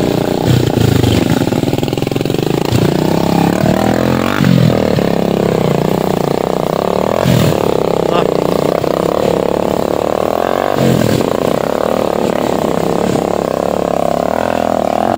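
Motorcycles riding on a muddy dirt road, engines droning and revving continuously with periodic surges and bumps, loud and close throughout.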